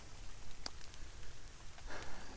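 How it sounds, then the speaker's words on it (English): Light rain pattering on a woodland trail: soft, scattered drips and a brief sharp tap, with a faint hiss rising near the end. No voices are present. "another reason why I love walking in the rain too"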